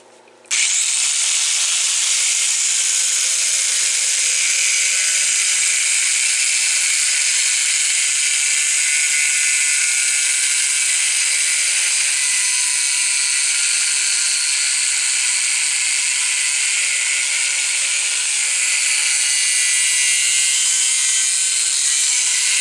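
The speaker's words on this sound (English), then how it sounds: "You can make nice cuts with a grinder." An angle grinder cuts steel for a coal stove bulkhead, starting abruptly and holding a loud, steady high-pitched whine with a gritty hiss that continues without pause to the end.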